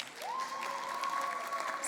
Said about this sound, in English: Scholars, give her a big round of applause.